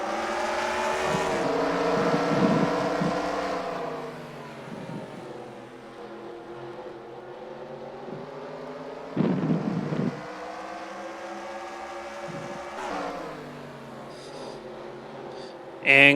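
Race cars in a heat race at Stafford Motor Speedway roar around the turns, a loud sustained engine drone swelling and fading as the pack passes, with a crowd-like wash beneath and brief bursts of louder noise.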